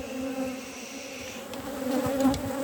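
Honey bees buzz in an open beehive with a steady close-up drone and a few louder passes, with no talk.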